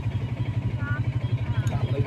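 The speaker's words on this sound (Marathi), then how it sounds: "तर गाईज रिक्षामध्ये बसलोय आता" An auto rickshaw engine putters steadily and close by in a low, even rhythm during a ride toward the Dwarka temple in Gujarat, with light road clatter on top.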